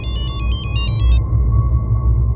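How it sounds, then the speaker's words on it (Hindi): A landline telephone rings with rapid electronic trilling pulses that stop after about a second, leaving a low background rumble. "लैंडलाइन नंबर से फ़ोन आया"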